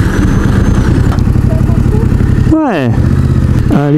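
A 2020 Yamaha Tracer 700 motorcycle engine runs close by with a steady throbbing idle, then gives two sharp rising revs near the end, while someone speaks briefly over it.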